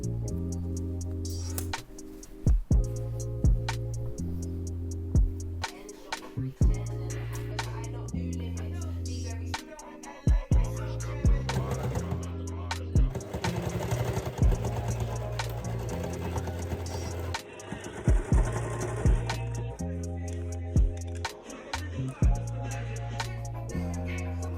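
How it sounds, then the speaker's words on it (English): A sewing machine stitches a bag made from old clothes in repeated bursts of steady mechanical whirring and ticking, broken by short pauses and clicks between runs; no one speaks. "Enjoy the next 20 seconds of me sewing."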